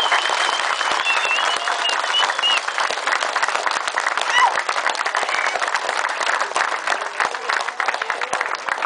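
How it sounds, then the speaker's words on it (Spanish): A crowd at a 1 May municipal event in Tepezontes gives steady, dense applause welcoming the new mayor, sustained clapping throughout with a few faint voices mixed in. "quiero que recibamos con un fuerte aplauso a don Daniel"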